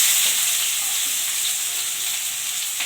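Onions and mustard seeds fry in oil with a steady, close hiss and crackle that holds evenly throughout, with no voices over it.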